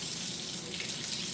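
Water runs steadily from a kitchen tap while a radish is washed beneath it, a close, continuous hiss of flowing water with no talk.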